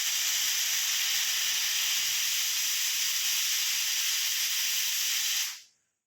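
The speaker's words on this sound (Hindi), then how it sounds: "एक तरफ तो कुकर में सीटियाँ लग रही हैं" A pressure cooker on an Indian home kitchen stove lets out a loud, continuous hiss of escaping steam for several seconds before it cuts off abruptly, with no voices over it.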